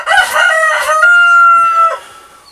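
A rooster crows once, loud and close, a long strained call that rises and then trails off.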